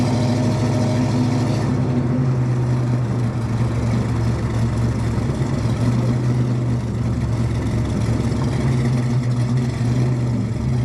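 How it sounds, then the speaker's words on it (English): A 1968 Chevrolet C10 short wheelbase pickup with a 6-liter LS V8 and 4L80E overdrive transmission on the road, a deep continuous engine drone with a throaty low rumble and a shift in pitch early on, loud and close throughout. "Today we are in this 1968 Chevrolet C10 short wheelbase pickup with a 6-liter LS and a"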